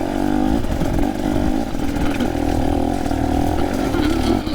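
A motorcycle pulls away in first gear up a big step, its engine droning loud and steady close by, with a rough, revving edge and a faint voice underneath.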